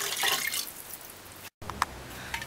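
Water splashes and trickles into a pot of brown stewed turkey neck, a steady pour with a few distinct drips toward the end.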